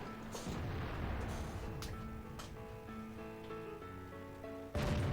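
Tank cannon fire hitting a target in World of Tanks at Prokhorovka, the AMX AC mle. 46 firing: sharp booming impacts over a steady engine drone, with a louder blast near the end, no talk.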